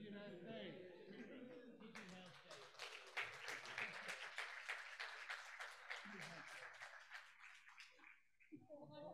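Applause breaks out from a conference audience at a digital health day closing ceremony as speakers leave the stage, a burst of clapping that swells then fades, with talk and voices before and after.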